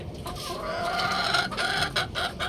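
Gamefowl hens cluck and chatter together in a small backyard breeding pen, a dense overlapping chorus of close, fairly loud calls with no talking.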